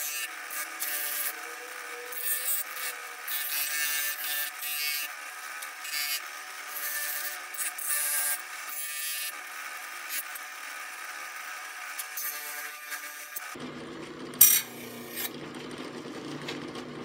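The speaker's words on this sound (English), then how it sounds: "Now I'm going to go over everything with the fiber wheel." A fiber wheel on a rotary tool scrubs rust from old WORTH grass shears, a thin high-pitched whirring rasp that wavers as it works the metal, then shifts to a duller, rougher tone near the end, with no talk.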